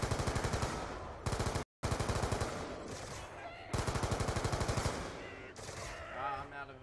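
An AN-94 rifle fires in a zombies video game, sustained rapid automatic bursts with an even, fast rhythm, loud and close, broken by one brief silence and trailing into echoing noise at the end.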